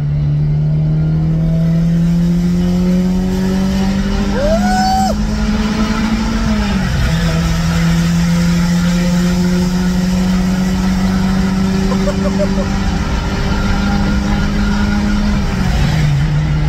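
A Ferrari sports car drives at speed with its engine droning loud and close, its pitch climbing gradually through the gears, dipping briefly at two shifts, then rising again, with a faint squeal of tyres or a voice for a moment.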